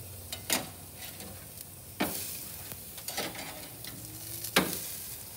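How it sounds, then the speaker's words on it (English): Pork chops sear on a grill grate over a charcoal grill, a faint, steady sizzle broken by a few sharp clacks and scrapes as the meat is handled, with no talking. "Now let's sear those pork chops."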